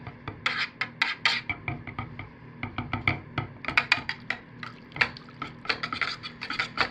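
Sahara Gold mica being stirred into soap batter in a container, a brisk series of scraping, rasping strokes in an uneven rhythm, close and fairly quiet, with no voices.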